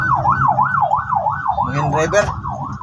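An ambulance siren wails in a steady rising-and-falling pattern, loud and close, on a street in San Fernando, Pampanga, with traffic noise and a brief horn-like burst near the end.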